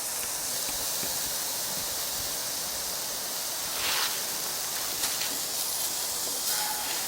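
A biofuel camp stove hisses steadily and evenly while cooking chicken and sausage gumbo outdoors, a close, continuous rushing noise with a few faint clicks and no talking.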